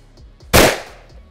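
A single sharp gunshot fired into a wall during penetration testing of different rounds, one loud close blast with a quick decaying echo, no voices.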